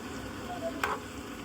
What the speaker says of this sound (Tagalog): lagay muna natin itong chicken para mag-prito siya